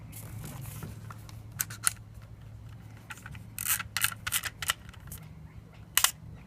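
An Olympus XA2 compact camera with an intermittently misfiring shutter gives a series of small, sharp mechanical clicks, close and distinct, some in quick pairs, over a faint low hum.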